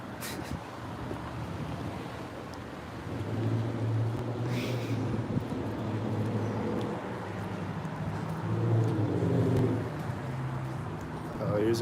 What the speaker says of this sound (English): This truck just started right now.